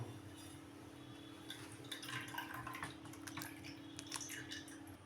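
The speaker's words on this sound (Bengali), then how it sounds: "আমি এটাকে একটুখানি জলটা ঝরিয়ে নেব" Water drains from freshly made chhena, cottage cheese, in a kitchen, a faint, quiet trickle of dripping and splashing against a low steady hum.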